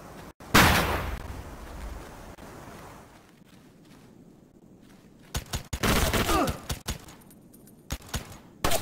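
A flashbang grenade goes off with a loud, sudden blast in the SOCOM U.S. Navy SEALs Fireteam Bravo 3 game, followed by a hush and later several bursts of close gunfire.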